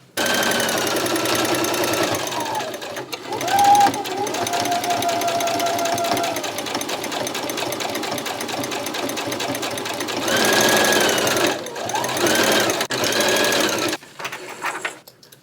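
A sewing machine stitches fabric during a clothing alteration, running loud and close in a continuous mechanical whir for most of the span, briefly changing pitch, then stopping near the end with a few handling clicks.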